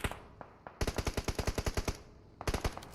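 Gunfire in the mobile battle royale game PUBG Mobile during an esports grand final: a rapid burst of about a dozen loud, evenly spaced automatic shots, then a short gap and another burst.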